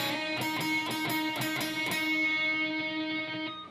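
Electric guitar playing the song's intro riff at full speed, a rapid, driving run of picked chord stabs in a steady shuffle rhythm, close and loud, ringing out at the end with no voices.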